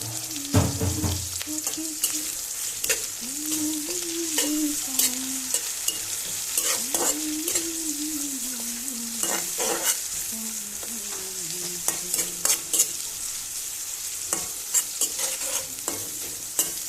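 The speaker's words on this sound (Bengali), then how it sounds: "শুটকিটা একটু পেঁয়াজের সাথে একটু ভাজা ভাজা হোক।" Dried fish and onions fry in a pan with a continuous sizzle, broken by frequent clacking stirs and scrapes of a spoon against the pan, close and fairly loud.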